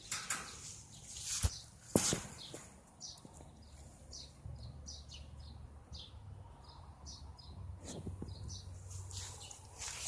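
Small birds chirp in a faint, repeated run of short high tweets outdoors in nature, with a couple of sharp clicks and knocks early on and quiet background hum.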